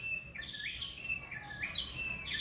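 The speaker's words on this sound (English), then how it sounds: "Isn't that bird pretty?" A songbird near a pond gives a repeated series of bright, clear whistled phrases, several short notes in a row, over quiet outdoor ambience with no speech.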